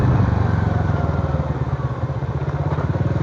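An old Astrea Star motorcycle engine runs while riding on a village road, a steady close putter with rapid regular pulses and no talk over it.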